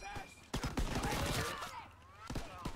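Rapid bursts of SMG gunfire in Call of Duty WW2 rattle out in close clusters, broken by short pauses, with a voice talking over part of it.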